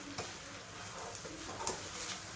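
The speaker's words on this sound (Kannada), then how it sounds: "ಇದನ್ನು ನೀಟಾಗಿ ಒಂದು ಎರಡು ನಿಮಿಷ ಈ ರೀತಿ ಫ್ರೈ ಮಾಡ್ಕೊಬೇಕು" Leafy greens (soppu) stir-fried with onion in a pan, giving a steady close sizzle with soft scraping stir strokes and a few faint clicks, no voices.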